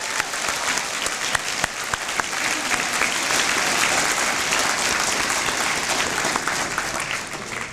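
Steady applause from a large crowd at a high school graduation, dense clapping holding at an even level throughout.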